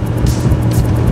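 A 1961 Ferrari 250 GT California with a big-cam 408 cubic inch, 500 horsepower engine and five-speed gearbox runs steadily: a loud, close, rumbling drone that holds without a break and has no talk over it.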